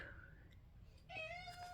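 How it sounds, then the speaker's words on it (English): A pet cat cries indoors with a couple of drawn-out, rising meows, fairly faint and close, over a low background hum. "Oh, my kitty is crying."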